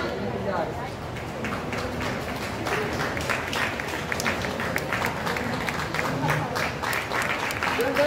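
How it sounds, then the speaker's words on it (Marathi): A crowd claps steadily at a women's literary conference in Nashik, a continuous wash of applause held throughout with some voices mixed in. "जोरदार टाळ्या."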